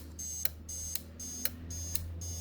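A Viper two-way alarm remote being paged by the car alarm chirps steadily, four short high electronic beeps about half a second apart, close and clear over a low background hum.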